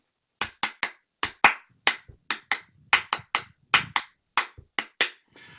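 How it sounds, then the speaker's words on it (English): One person's hand claps tap out two bars of rhythm, sharp distinct claps with uneven spacing and short gaps, close and clear against silence, during a music-teaching session. "So I'm just going to clap the first two bars."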